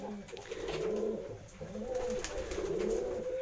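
Pigeons kept for sale coo in low, soft, repeating phrases close by, with a faint steady background hum and no talk.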